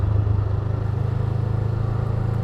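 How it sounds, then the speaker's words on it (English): Steady low, throbbing engine drone from a 2019 Honda Rebel 500 motorcycle's 500cc engine pulling under way while riding, loud and continuous with a rhythmic pulse. "500cc engine. And Honda did some fun stuff to it to make it pull like this."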